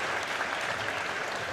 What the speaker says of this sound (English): Please give a round of applause to our seniors